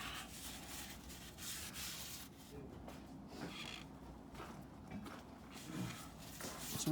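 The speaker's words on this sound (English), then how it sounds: "give the oil pan a clean up" Quiet, steady rubbing of a cloth wiping leftover oil residue off the oil pan of a Mazda RX-8 rotary engine, a soft continuous scuffing with small irregular swells and no voices.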